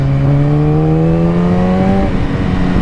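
A motorcycle accelerates hard under way, the engine note climbing steadily for about two seconds before the rider shifts, close and loud over wind noise.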